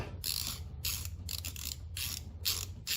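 Ratchet socket wrench clicking while backing out 10 mm bolts on a Powerhorse 2300i inverter generator, heard as bursts of quick close ratcheting clicks repeating every half second or so, over a low steady hum.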